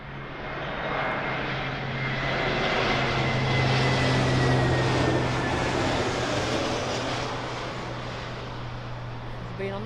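A JetBlue airliner arriving from New York lands on runway 27L at London Heathrow, its jet engines a loud, broad roar that swells and fades gradually as it passes, with faint talk underneath.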